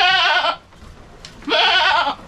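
Two loud, close goat bleats ring out on a farm, separated by a short pause.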